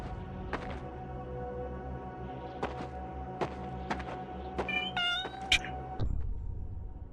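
A cat meows repeatedly in the video game ShadowSide, several short separate calls rising into a quick cluster of higher, wavering meows, close and clear over a low steady background hum.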